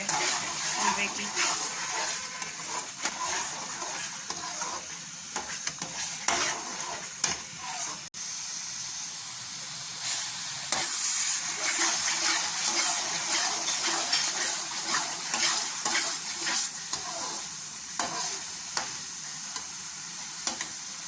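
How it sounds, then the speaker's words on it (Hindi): Bottle gourd halwa roasts over medium heat while a spoon stirs it continuously, a soft sizzling hiss with scraping strokes throughout and a voice talking at times over the cooking. "जैसे जैसे इसकी भुनाई हो रही है हलवे का कलर भी थोड़ा सा चेंज हो गया है"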